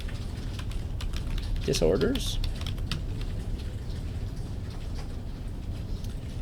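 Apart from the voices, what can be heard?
typing on a computer keyboard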